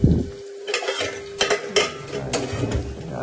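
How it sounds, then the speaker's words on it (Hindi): Spices for a tadka tempering crackle and sizzle in hot oil, with bursts of spattering and occasional scraping of a spoon against the pan. "अच्छा वाला तड़का लगेगा"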